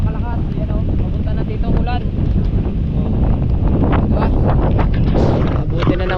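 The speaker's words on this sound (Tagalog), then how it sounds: "napakalakas ng hangin at ng ulan, napakalakas" Strong wind and heavy rain roar steadily outdoors, with gusts buffeting the microphone, under a voice that talks throughout.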